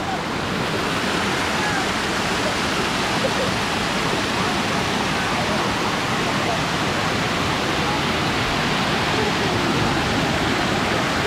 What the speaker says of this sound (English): So here's waterfall number one.